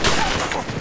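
Dense gunfire from an action film, a loud continuous crackle of overlapping shots filling the short stretch without a break.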